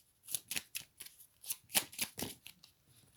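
Oracle cards are shuffled and drawn by hand, a close, quiet run of rapid riffling flicks and papery slaps in an uneven rhythm of about a dozen bursts, with no speech over them.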